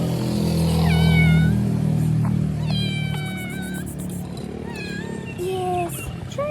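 A homeless street cat in Thailand meows repeatedly and loudly up close, a series of rising and falling cries, while a person speaks softly nearby.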